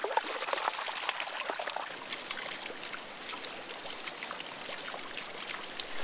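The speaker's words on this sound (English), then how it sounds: "Now I'm using it to wash potatoes." Water sloshes and trickles in a bucket as potatoes are washed by hand outdoors at a van camp in Greece, a steady splashing and dribbling with small splashes and no voices.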